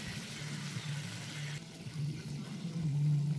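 Water pours into a kazan of frying onion and spices over a campfire as plov is cooked, a continuous rushing splash over low sizzling that grows slightly louder toward the end.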